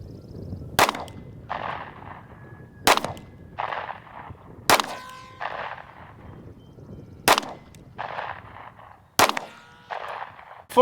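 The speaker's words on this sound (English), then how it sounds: "I'm going to shoot to see what kind of a group I get at 10 yards" Five sharp, loud gunshots come from a Ruger Max 9 pistol firing Federal FMJ rounds at an outdoor range, spaced about two seconds apart. Each shot is followed by a ringing clang of rounds striking steel.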